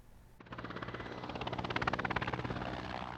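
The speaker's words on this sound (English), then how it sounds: "An attack helicopter going into battle from a secret airbase." A Ukrainian attack helicopter heads into battle from a secret airbase, its rotor chopping in a fast, steady rhythmic beat that starts abruptly and holds loud and close throughout, with no voices over it.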